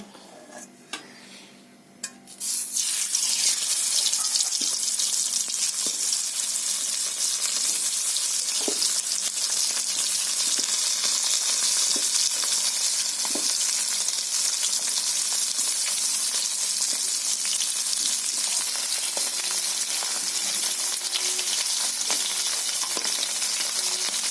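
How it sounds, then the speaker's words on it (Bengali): Small koi fish fry in hot oil in a wok, with a brief quiet start before a loud, continuous sizzle that holds steady for over twenty seconds with occasional faint pops and no talking. "কড়াইতে তেল আমার গরম হয়ে গেছে এখন আমি মাছগুলো দিয়ে একদম হালকা করে"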